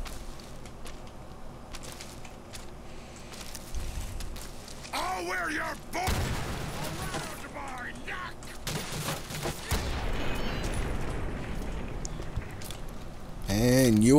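Bursts of gunfire from a hunting rifle in a video game, sharp shots and impacts scattered through a busy mix of game sounds and music, with a voice talking over much of it.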